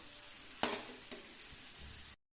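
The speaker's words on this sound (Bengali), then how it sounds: "এবার এটাকে সবকটা একসাথে দিয়ে ভালো করে কষাবো।" Lote fish with chilli powder and spices is stirred in oil, giving a faint sizzle with three sharp spoon knocks against the pan before the sound cuts off.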